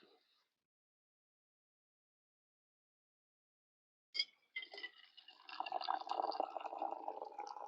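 Liquid is poured close by, a trickling, gurgling stream that begins after a long silence, with a couple of sharp clinks first, then runs steadily to the end.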